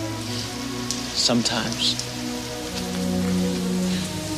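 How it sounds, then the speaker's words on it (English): Steady rain falls and patters on a surface in a continuous hiss, with a low hum beneath and one brief spoken word partway through. "I wish the rain would stop just once."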